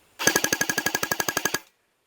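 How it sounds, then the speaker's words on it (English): A Cyma 045C airsoft gun fires a quick burst of about fifteen rapid, evenly spaced shots, sharp and close, with silence right after. "Let's do a quick burst just to see what kind of FPS, or rounds per second we can get."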